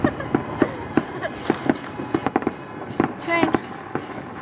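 Rhythmic clanking and rumbling of a passing train, with sharp repeated clacks over a steady roar, heard close and loud.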